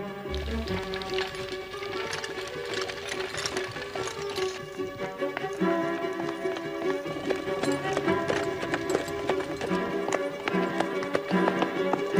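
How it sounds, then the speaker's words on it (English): Rapid clip-clop of horse hooves at a quick pace, mixed with dramatic music and other busy sounds. "Stop that horse."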